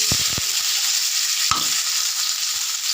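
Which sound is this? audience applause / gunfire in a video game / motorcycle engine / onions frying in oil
onions frying in oil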